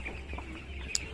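Two-week-old broiler chickens on a poultry farm give soft, scattered clucks and chirps, faint and fairly close, with one brief sharp peep near the end.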